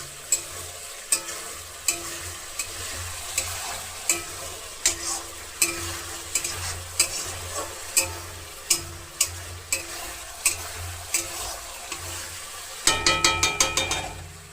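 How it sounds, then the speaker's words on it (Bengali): Spices with turmeric for a village-style rui fish curry sizzle in a wok, a spatula scraping and knocking the pan in a regular rhythm about once a second, ending in a quick rattling flurry. "এবার সুন্দর করে আমরা কড়াইটাকে নাড়তে থাকবো যাতে করে নিচে লেগে না যায়"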